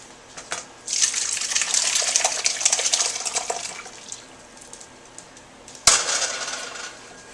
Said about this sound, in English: I'm going to dump it in my cheesecloth.